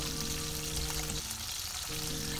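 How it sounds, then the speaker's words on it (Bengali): Pieces of bata fish frying in a generous amount of oil, giving a continuous, fairly loud crackling sizzle up close with no talking. "এখন আমি মাছগুলো ভেজে নিচ্ছি"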